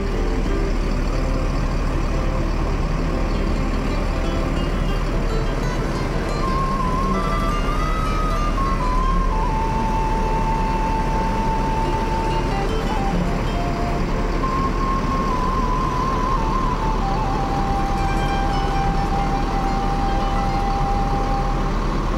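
An intercity bus, unit B68 on the Jakarta–Padang route, rumbles as it pulls away, its engine a steady low drone with a faint whine rising and falling, heard alone without talk.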